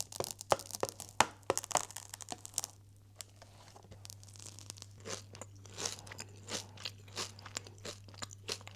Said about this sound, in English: I love the crunch from the kanafi.